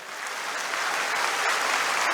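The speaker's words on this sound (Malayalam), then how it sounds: "ഉച്ചത്തിലൊരു കയ്യടി കൊടുത്ത്" Loud, continuous applause from a big crowd at a political rally in Kerala, swelling slightly as it goes on, with no voices rising above the clapping.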